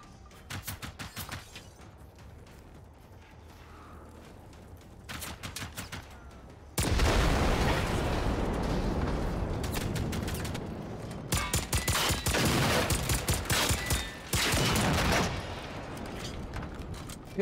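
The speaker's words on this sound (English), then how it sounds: "hip firing with the pistol." Pistol hip fire in the video game Generation Zero: scattered single sharp shots early on, then a long stretch of loud, dense, rapid bursts of gunfire and impacts with brief pauses between volleys.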